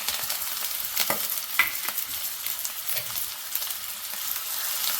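Onions, green chillies and curry leaves fry in hot oil for an egg fry, giving a steady bright sizzle with occasional sharper crackles and spoon stirs, close and continuous throughout.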